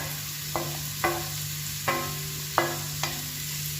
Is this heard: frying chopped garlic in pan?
yes